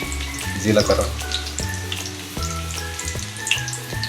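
Curry leaves and garlic frying in oil for a spiced tomato chutney make a lively, close sizzle with crackling pops. Heavy tonal music or hum lies underneath, and no one speaks.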